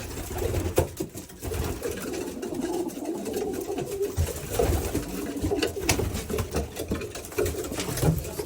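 Racing pigeons coo close by in a loft, low throaty calls that repeat and overlap, with light shuffling and wing patter underneath.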